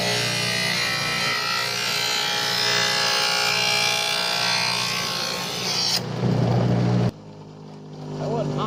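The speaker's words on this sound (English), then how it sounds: "we had to break out the precision tool grinder" A precision tool grinder runs steadily with a broad, dense whine, then cuts off abruptly near the end, leaving a brief lower mechanical rumble.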